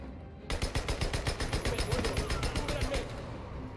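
Rapid automatic gunfire from the open-world video game Days Gone, a steady burst of close, loud shots lasting about three seconds after a brief quiet start, with no talk.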